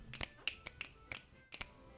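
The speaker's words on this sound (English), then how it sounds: "Snap along for fun." Finger snaps from the video game Doki Doki Literature Club, about seven sharp, crisp clicks in an uneven rhythm, some in quick pairs, close and fairly quiet with no talking.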